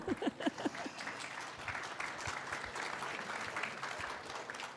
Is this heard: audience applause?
yes